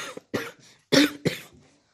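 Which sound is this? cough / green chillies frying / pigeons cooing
cough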